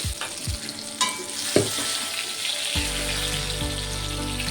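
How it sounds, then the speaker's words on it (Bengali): Eggplant pieces fry in oil over a high flame for an aloo begun hilsa curry, a loud steady sizzle broken by several sharp clanks and scrapes of a spatula against the pan. "এই তেলের মধ্যে বেগুনগুলোকে ভেজে নেব হাই ফ্লেমে"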